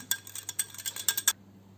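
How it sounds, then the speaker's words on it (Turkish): A tablespoon clinks rapidly against a bowl while mixing an egg yolk with a spoonful of yogurt, a quick run of about a dozen light metallic taps that stops abruptly. "bir tane yumurta sarısının üzerine bir yemek kaşığı yoğurt alıyorum. Şöyle bir karıştırıyorum."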